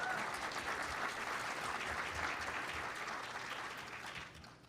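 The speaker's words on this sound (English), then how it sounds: "we should give these guys an applause" An audience applauds a panel at the close of an election day preparation session, with steady broad clapping from a room of people that holds level, then tapers off near the end.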